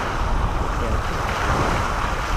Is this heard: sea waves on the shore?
yes